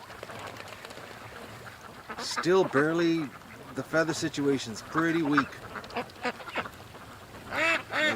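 A small flock of ducks quacks nearby in short raspy bursts, mixed in with a person talking to them over light background noise.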